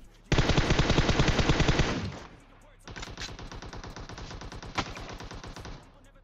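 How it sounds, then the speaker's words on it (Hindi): Automatic weapon fire in PUBG Mobile, a dense rapid burst of gunshots for about two seconds, then after a short pause another long, slightly quieter stream of rapid shots with one sharper crack. "और इधर पे मैं दोबारा से दो गोली पेलता हूँ"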